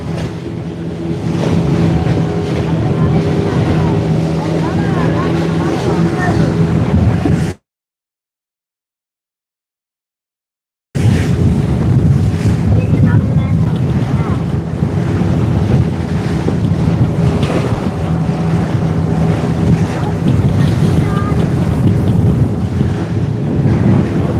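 A fishing boat moving across open sea off Thoothukudi, with steady wind buffeting the microphone and waves washing against the hull, interrupted by a few seconds of silence.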